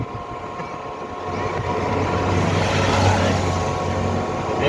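A scooter engine drones steadily while the bike is ridden, its loud continuous hum mixed with wind noise and rising slightly partway through.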